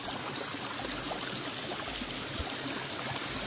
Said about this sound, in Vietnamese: em sẽ sử dụng cái nguồn nước suối này. Chảy ra từ mạch ngầm này.